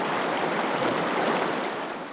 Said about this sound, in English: the creek running down stream